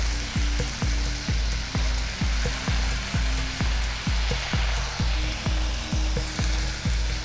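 Ginger and onion sizzle steadily in hot oil in a pan, the base for a fish korma made with tangra fish. A loud, even hiss runs throughout, with a regular low thumping beat underneath.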